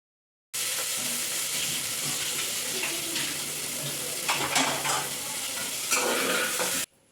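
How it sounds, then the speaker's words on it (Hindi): Fennel seeds and onions frying in a pan, a steady close sizzle running throughout with occasional stirring scrapes, beginning and ending abruptly. "तो यहाँ मैंने सौंफ डाला, फिर उसके बाद मैंने प्याज डाल रही थी।"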